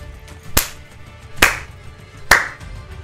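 Three sharp, loud claps spaced about a second apart, the clapping emote from the card game Gwent, each clap ringing briefly over a low game background.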